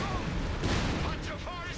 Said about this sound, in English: Here comes a barrage.